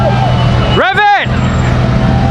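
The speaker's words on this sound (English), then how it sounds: "Rev it!" A Lamborghini Huracan STO gives a single quick rev that rises and falls over a steady rumble of nearby traffic at a Gumball 3000 stop in Malaysia.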